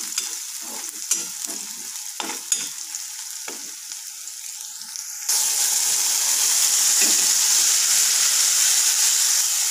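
Cluster beans tipped into hot oil with green chilies. A light crackle with stirring clicks jumps halfway through into a loud, steady, close hissing sizzle.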